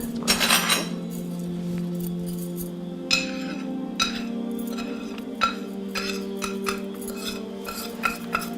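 Spices are stirred into yogurt in a bowl, with a utensil scraping and clinking against the bowl in irregular close taps over a steady low hum, no talking.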